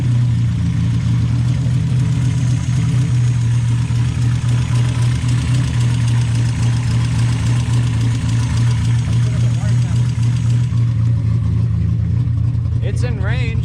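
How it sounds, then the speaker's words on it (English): A cammed Mazda Miata engine idles roughly up close, with a steady, loud, lumpy low drone that holds for over ten seconds before its upper tones thin out near the end. "The idle is really weird."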